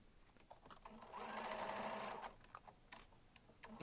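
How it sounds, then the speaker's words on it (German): A sewing machine stitches a crossover tote bag, a loud continuous whirring run of about a second, with lighter clicks and handling noises before and after. "Bis nach oben nähen, die Nadel im Stoff stecken bleiben lassen"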